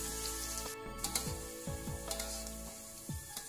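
Shallots sizzle and crackle in used frying oil, a soft steady fry with scattered pops and occasional stirring clinks, heard alone without speech.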